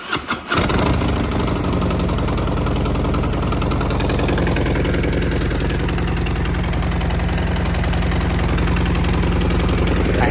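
A Harley-Davidson Road Glide V-twin with an exhaust leak cranks briefly, then fires up and settles into a loud, steady, loping idle close by for several seconds.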